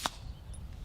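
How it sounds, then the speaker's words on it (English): A single .22LR rifle shot fired through a silencer on a test range, a brief sharp crack right at the start, followed by quiet ambient noise. "Go ahead and fire, Elijah."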